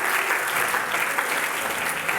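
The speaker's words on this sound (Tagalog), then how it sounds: "Palakpakan mo ang ating Panginoon." A church congregation claps together, a steady, full wash of applause that stays even and loud throughout without any talk over it.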